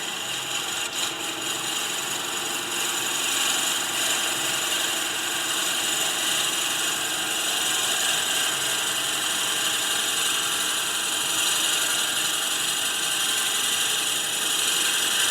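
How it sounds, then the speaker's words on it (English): A drill bit bores slowly into a wooden workpiece spinning on a lathe while turning a ball box, a steady whirring hum with faint mechanical rattle throughout, close and continuous with no talk. "I'm going to drill at a little slower speed"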